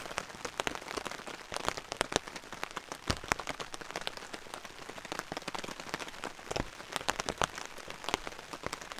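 Heavy rain drums on a tent and tarp at a campsite, a dense, close patter of irregular drops with sharper individual hits throughout.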